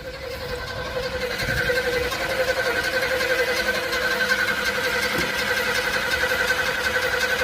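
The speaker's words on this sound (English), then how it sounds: "Oh yeah, we got a sticky starter relay here." A car starter cranks and keeps grinding because of a sticky starter relay, a continuous close whirring drone that holds steady for the whole stretch without stopping.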